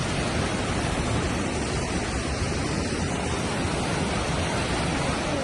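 Johnston Canyon Falls in Alberta pours in a constant, dense roar of rushing water, steady and unbroken, heard close with no voices over it.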